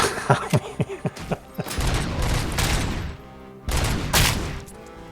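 Heavy machine gun fire in the game Robocop Rogue City, opening with a rapid string of separate sharp shots, then dense sustained bursts with a short gap between them, loud and close.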